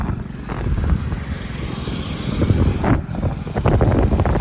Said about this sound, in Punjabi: ਮੋਟਰਸਾਈਕਲ ਆ ਗਿਆ